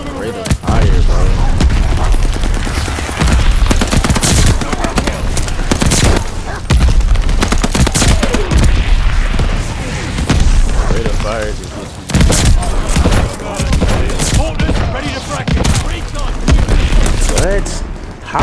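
NZ-41 rifle fire in the Call of Duty: Vanguard video game, loud rapid bursts of shots with booming explosions, running almost without a break and mixed with excited talk from a player.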